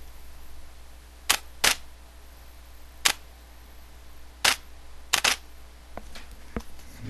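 Nikon D300 DSLR shutter firing: several sharp, close mechanical clicks spaced irregularly, some in quick pairs, over a quiet room hum with no talk.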